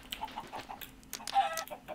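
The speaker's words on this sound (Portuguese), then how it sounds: "Andem cá, galitas. Galitas, galinhas." Minecraft chickens give several short, quiet clucks in an irregular run, spaced apart over faint background sound, with no speech.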